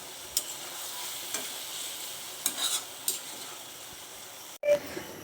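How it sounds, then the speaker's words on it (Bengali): Curry and biryani cook with stirring in a pan: a low steady sizzle with scattered scraping clicks, then a short break and a louder clatter near the end. "এদিকে তরকারি রান্না হইতেছে, এদিকে বিরিয়ানি রান্না করতেছি আমরা।"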